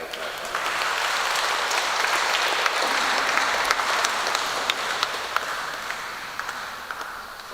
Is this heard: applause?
yes